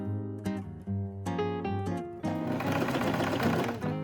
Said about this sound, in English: Sew the lining side pieces right sides together with a 1 cm seam allowance.